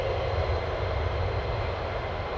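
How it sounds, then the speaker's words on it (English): F-15 fighter jets taxiing at RAF Lakenheath, a continuous loud engine roar and whine holding steady throughout. "All 15s are taxiing down."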